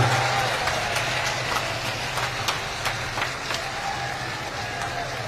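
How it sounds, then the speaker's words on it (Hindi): A rally crowd in Basti, Uttar Pradesh claps to welcome Mayawati at a Lok Sabha election gathering, a steady wash of applause with scattered sharper claps, heard at a distance through a public address system over a low hum. "दोनों हाथ उठा करके जोरदार ताली बजा करके मान्य बहन जी का स्वागत करने का काम करें।"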